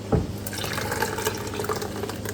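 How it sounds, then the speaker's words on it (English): Liquid protein powder mixture poured from a container into a cooked pumpkin for a Cantonese pumpkin sago dessert, a steady close splashing and trickling pour with a brief thicker gush at the start. "Okay, and then I'm gonna dump this into the pumpkin."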